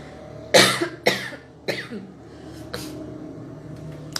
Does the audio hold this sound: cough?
yes